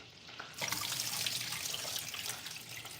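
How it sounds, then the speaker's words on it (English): Tap water runs steadily into a sink, rinsing starch off while cooking butter chicken, a close continuous rush and splash that starts after a brief quieter moment and carries on without talk. "I'm gonna rinse one more time. Just getting all that starch off."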